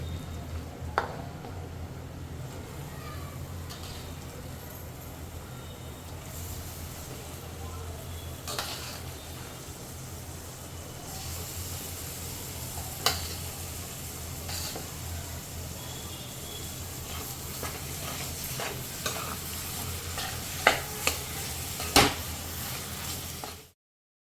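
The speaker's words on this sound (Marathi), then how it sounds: "आपले मसाले फ्राय झालेत आता आपण जी मिक्स भाजी केली आहे ती आपण त्याच्यामध्ये टाकून घेऊया" Mixed vegetables stirred into frying spices in a pan for healthy cutlets, a low steady sizzle with occasional scraping and clinks of a spoon against the pan.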